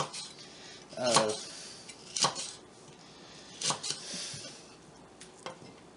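A kitchen knife slicing celery on the bias on a cutting board for bean soup: a few separate sharp chops and clacks spaced a second or so apart, with quiet room noise between.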